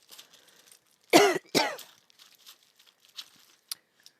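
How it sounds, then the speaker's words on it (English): Two sharp, close coughs in quick succession, followed by faint rustling and small clicks in a quiet room. "it's just like I start coughing on cue"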